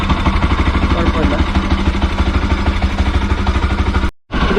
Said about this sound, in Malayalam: ആ ഒരു സ്റ്റോക്ക് എക്സോസ്റ്റ് തരുന്ന ഒരു പെർഫോമൻസ് സൗണ്ട് എനിക്ക് ഭയങ്കര ഇഷ്ടമാണ്